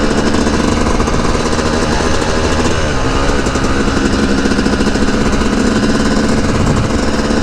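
A dirt bike engine runs loud and close on a ride along dirt roads, a constant rough, buzzing drone with slight shifts in pitch and no pauses or voices.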